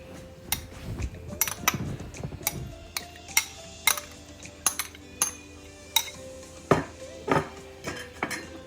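Minced meat and chana dal are stirred together in a bowl with a spoon, giving a steady run of light clinks and scrapes against the bowl, soft and close by, with no voices.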